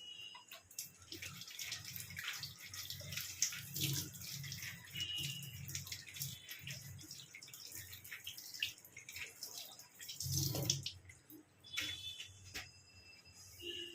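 A blackened coconut shell is rinsed under a running tap, giving a steady splashing water stream with a few louder gushes and drips, close by and with no talking.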